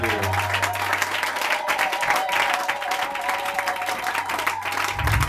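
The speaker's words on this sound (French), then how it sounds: "Acclamez très fort pour le roi des rois." Church congregation applauding loudly and steadily for the whole stretch, a dense wash of many hands clapping with crowd noise and a low steady hum underneath, no words spoken.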